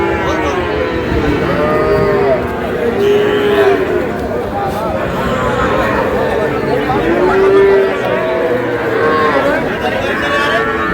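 Cattle and young bull calves moo repeatedly at a village livestock market, several loud drawn-out calls rising over a dense, steady crowd hubbub of chatter and movement throughout.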